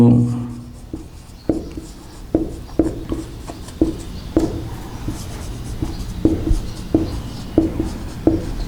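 Chemistry examples being written on a board, a string of quick taps and scratchy strokes in an uneven rhythm, heard under a man's steady speech.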